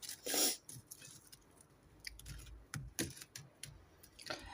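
Sharp, brittle crunches at close range of crispy fried khvorost pastry, a few distinct bites and snaps spaced irregularly against a quiet background.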